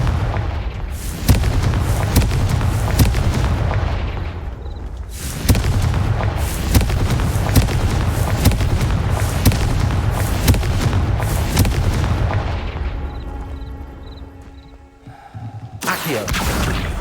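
Booming blasts from the Confringo fire spell in Hogwarts Legacy, loud and repeated, with rumbling explosive bursts sustained over most of the stretch and a quieter lull near the end.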